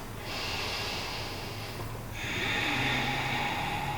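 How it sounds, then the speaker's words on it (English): Deep audible breathing during a vinyasa yoga class, two long breath sounds in succession, the second stronger and more forceful, close and alone. "One more round of breath."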